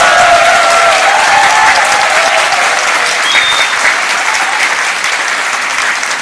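Large audience at a political talk concert breaks into sustained, loud applause, a thick continuous clatter of many hands that holds steady and tapers only slightly at the end.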